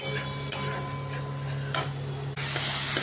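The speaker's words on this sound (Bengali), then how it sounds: "এটা আর একটু কষবো, এটাতে সবই মশলাপাতি দেওয়া আছে" Ground coriander and cumin spice mix frying in hot oil in a pan, a steady close sizzle with a spoon stirring and scraping in a few distinct strokes, louder hiss near the end.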